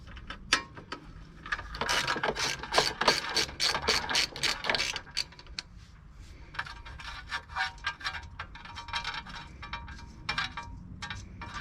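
A socket ratchet wrench turning a bolt on a Cheetah ride-on mower with a Briggs and Stratton engine, producing rapid, close clicking runs in several bursts with short pauses between strokes.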